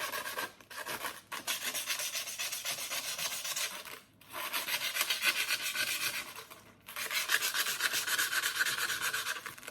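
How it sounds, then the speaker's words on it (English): Steady rasping strokes of sandpaper rubbing against the outer surface of a nail, continuous scratchy friction in long bursts broken by two brief pauses, close and alone with no talk. "I have to sand the exterior part of the nail."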